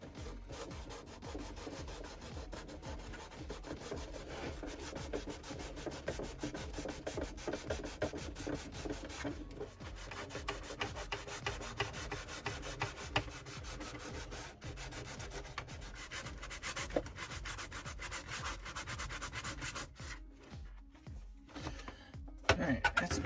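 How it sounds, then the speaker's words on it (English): Steady hand sanding on a custom 1989 Batman McFarlane Toys Batmobile model, with close, continuous rasping rubs in quick repeated strokes and a brief pause near the end, no talking. "All right, time to get sanding."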